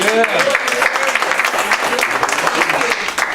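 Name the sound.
audience clapping for Navy veteran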